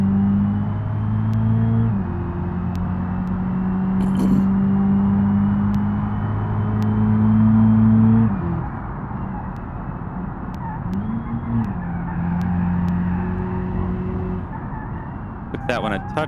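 Race car engine lapping the Nurburgring in a racing video game, a steady droning tone that rises and dips with gear changes and throttle lifts, loud and continuous with a commentator's voice over it.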